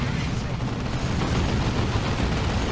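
Assault cannon fire rattles continuously in a Warhammer 40k strategy game, a dense, loud stream of rapid gunfire and battle noise lasting the whole moment.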